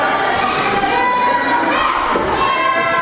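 Wrestling arena crowd cheering and shouting for Matthews at a UWC show, a loud continuous roar with raised voices and yells throughout, no pauses.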